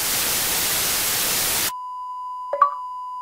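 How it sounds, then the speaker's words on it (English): A synthetic notification chime from an Xbox in Sony Vegas: a steady electronic tone with a short double blip partway through. It follows a burst of loud static that cuts off abruptly. "the Xbox notification effect is within Sony Vegas"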